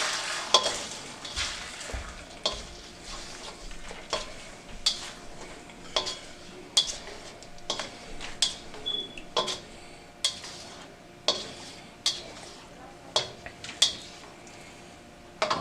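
Four eggs being beaten and stirred in a pan for chicken fried rice, with a spatula scraping and tapping the pan in a steady, repeated rhythm. Light sizzling sits underneath, close and fairly quiet, with no talking.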